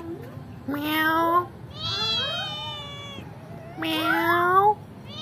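A kitten mews three times, high and plaintive, each call rising and falling with clear harmonics, close to the listener with short pauses between.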